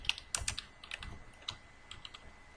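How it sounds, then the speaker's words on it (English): Keys tapped on a computer keyboard while working in a Microsoft Word 2016 table, a quick uneven run of close, crisp clicks and taps, loudest at the start, with no talk. "Here I'm clicking on tab to go to the next cell or next column"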